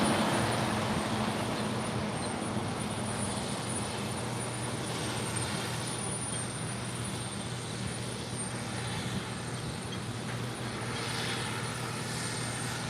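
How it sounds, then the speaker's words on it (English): An oxygen tanker truck rolls up to the main gate of the SpaceX Starbase launch site in Boca Chica, Texas, a steady broad rumble that holds at moderate distance with no talk. "Got an oxygen tanker coming in."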